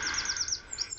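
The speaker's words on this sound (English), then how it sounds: "Another wren's still giving it some," A wren sings a rapid, high, repeated series of trilling phrases, close and clear in an outdoor setting, with no talking.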